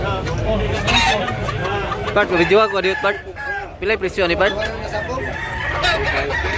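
A rooster crows and clucks among other fowl at a busy Tabunok, Cebu gamefowl market, loud and close, with several people chatting over the calls.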